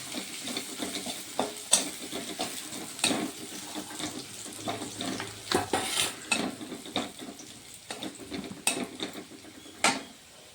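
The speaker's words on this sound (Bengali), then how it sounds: "রসুনগুলো একটু ভেজে নেব" Garlic paste with a dried red chilli sizzling in hot oil in a home kitchen, with a steady fry under repeated sharp scrapes and clinks of a spatula against the pan, close and moderately loud.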